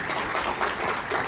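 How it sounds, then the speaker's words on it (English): Brief audience applause at a CBD summit conference session, dense clapping throughout at moderate level with no voice over it. "Let's give Todd an extra round of applause."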